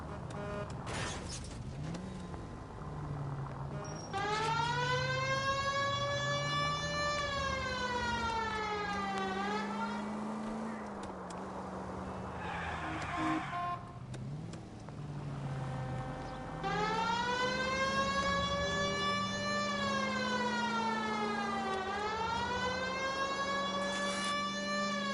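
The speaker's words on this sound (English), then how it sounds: "Why aren't you using the siren?" A police car siren from the L.A. Noire video game wails loudly and continuously, rising and falling in long sweeping cycles over a low engine drone, with a brief dip in the middle before resuming at full strength.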